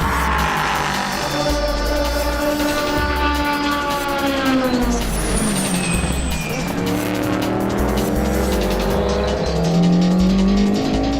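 LMP3 closed-cockpit race cars and open-air Mazda-powered Elan prototypes race on a circuit, their loud engines shifting pitch as they pass, with tire squeal and a constant roar that carries all the way through.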